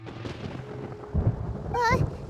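Thunder from the video game Genshin Impact rolls low and rumbling, swelling partway through, while a character's voice is heard over it.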